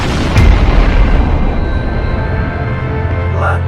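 A loud booming blast followed by a sustained roaring rumble, like a large explosion of a cartoon house, with a faint crackle near the end.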